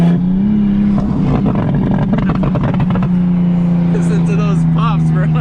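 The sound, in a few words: exhaust pops of 800 hp big turbo BMW 335i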